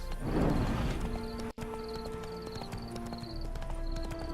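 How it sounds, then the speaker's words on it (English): Horse hooves clip-clopping in the video game The Witcher 3, a steady close rhythmic plodding of a mount with a brief cut near the middle and soft music underneath. "Bloody fine mount. Good stance, powerful rump, stable withers."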